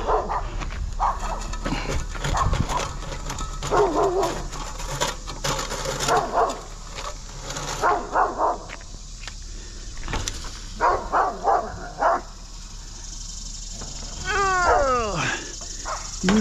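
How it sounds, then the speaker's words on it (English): A big Doberman barks and growls in repeated loud bursts close by, with people talking over and between the barks. "Big old Doberman."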